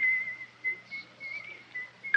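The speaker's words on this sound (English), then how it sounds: "He's whistling. He's always whistling." A single steady whistled tune, clear and fairly quiet, wavering on one pitch in short phrases with small pauses between them.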